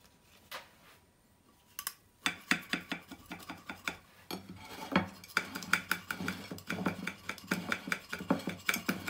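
A knife cutting through tiramisu cake on a plate gives a quiet start, then a run of sharp clinks and scrapes of metal on ceramic, closely spaced and growing busier toward the end, with no voices.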